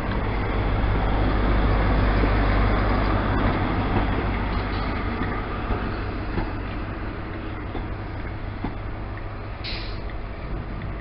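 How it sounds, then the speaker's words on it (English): A Great Western Railway train with power car 43016 on the front rumbles through Exeter St Davids station, a continuous heavy roar that slowly eases, heard from the platform with station noise around it. "Great Western Railway Service to London Paddington with 43016 on the front"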